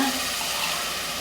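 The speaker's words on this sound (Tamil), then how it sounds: "இப்போ தண்ணி ஊற்றிக்கலாம்." Three tumblers of water poured into a cooking pot for rice upma, a steady close rushing splash that holds even and loud from start to finish, with no talking.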